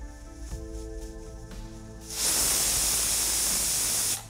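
A pressure cooker cooking dalia (broken wheat khichdi) lets out a sudden loud, steady steam hiss after a quieter stretch of low hum, and the hiss holds for about two seconds before cutting off.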